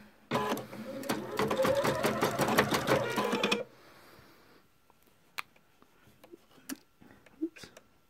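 Sewing machine stitching a rag quilt at slowed speed, a loud rapid mechanical chatter of needle strokes for about three seconds that then stops, followed by quiet clicks and fabric handling.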